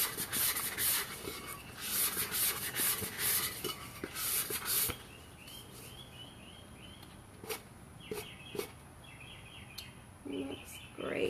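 Sandpaper rubs around the inside of a cup in rapid, close scratchy strokes for about five seconds. After that come fainter scattered rubs and light chirping sounds.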